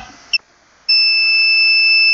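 A short electronic chirp from a RealAcc Scops 100 drone, then after a brief pause a steady, high-pitched error tone that keeps sounding without a break. No voices.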